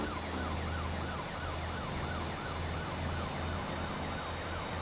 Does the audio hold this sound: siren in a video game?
yes